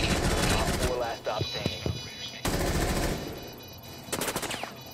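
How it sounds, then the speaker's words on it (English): Gunfire in Rainbow Six Siege, a ranked console match, with bursts of rapid automatic shots and sharp cracks, loud and close, with players talking over the shooting. "Yo, why are you shooting him?"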